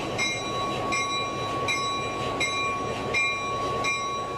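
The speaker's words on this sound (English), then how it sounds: "As the locomotive approaches the caboose, he checks that the couple is open to tie on." A locomotive rolls slowly toward a caboose for coupling, giving a steady rumble with high metallic ringing and squeals recurring roughly every three-quarters of a second. It is close and moderately loud throughout.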